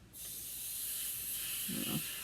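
A continuous close hiss of alcohol ink sprayed with Blends markers starts abruptly and holds steady, with a short low thump near the end.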